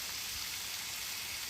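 Rain falls steadily outdoors before a Sunday barbecue cook-up, a soft, even hiss of drops on surfaces that continues without pause and with no talking.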